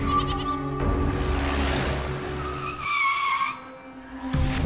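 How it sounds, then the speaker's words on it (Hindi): A car brakes hard and skids to a stop, a loud, close tire screech sweeping over engine rumble and then fading out. "ड्राइवर गाड़ी रोको।"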